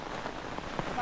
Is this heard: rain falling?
yes